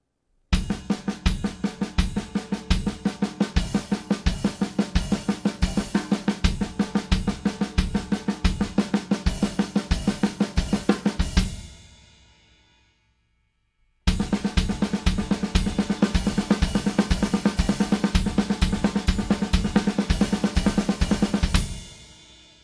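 Double bass drum 16th-note pattern with accents on ride cymbal and hi-hat, a dense steady kick stream under bright cymbals, running loud in two passages separated by a brief silence; no voices.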